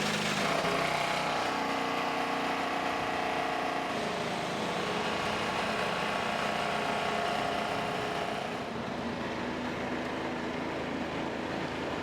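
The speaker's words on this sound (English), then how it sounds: "Drivers, start your engine!" IndyCar race car engines running at the Sonsio Grand Prix at Indianapolis Motor Speedway, a continuous dense engine roar from many cars blended with crowd ambience, steady and moderately distant.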